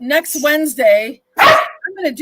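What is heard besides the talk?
dog sneezing and barking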